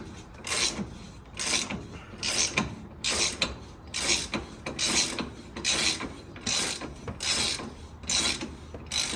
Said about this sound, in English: Now after removing both of the long bolts, your piece should be off.